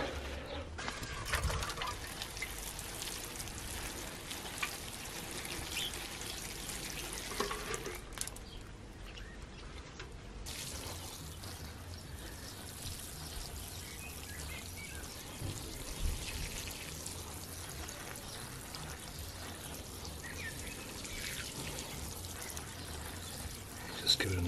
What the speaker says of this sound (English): Just give it a nice water.